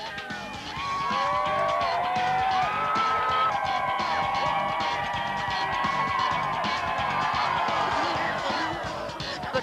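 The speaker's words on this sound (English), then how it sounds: "Let's watch the crowd go crazy for the Rippers on the final day of competition" A crowd at a ski competition on its final day whoops and cheers in a steady, loud roar, with shrill yells and whistles rising above the din throughout.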